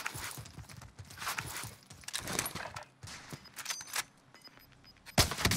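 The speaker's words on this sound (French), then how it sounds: "Derrière moi, ça me tire dessus." Warzone gunfire from behind pops in scattered, uneven shots amid footsteps and game clatter, moderately distant, with one louder crack near the end.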